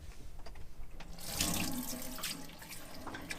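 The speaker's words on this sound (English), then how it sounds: "So I will clean the sides of the sink with this shower." Water sprays from a telescopic shower faucet into a camper van sink, a steady close hiss that swells louder as the spray strikes the basin sides, with no talking.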